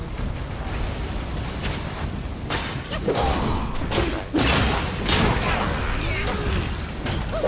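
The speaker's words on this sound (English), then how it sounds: "These cannons gonna get me." Heavy booming thuds of cannon fire in the game Black Myth: Wukong, several blasts over a dense, continuous battle din.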